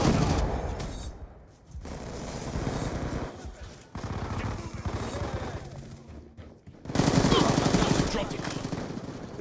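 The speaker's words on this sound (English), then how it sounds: "Hostile death machine spinning up." Sustained roaring bursts from a death machine minigun in Black Ops 2 on Nuketown 2025, several long loud volleys separated by brief gaps, the last burst heaviest, with faint game voices mixed in.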